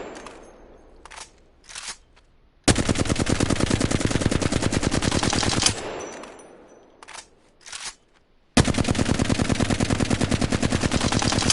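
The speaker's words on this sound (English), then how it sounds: "Flatline is one of the guns I really struggle with to control recoil." A Flatline rifle in Apex Legends fires two long sustained full-auto bursts of rapid, evenly spaced shots, loud and close, separated by a pause with a few scattered clicks and handling noises.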